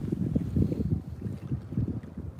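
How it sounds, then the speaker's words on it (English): Strong wind buffeting a boat out on a lake in rough weather, with waves slapping the hull in a steady low, pulsing rumble close to the microphone and no talking. "This wind is nasty, y'all."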